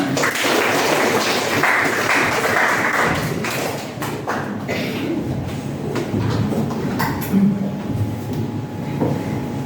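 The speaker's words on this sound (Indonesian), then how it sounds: "Tepuk tangan." A class audience at a lesson on recognizing personal potential applauds, giving a dense wash of clapping that is strongest at first and then settles into a steadier patter.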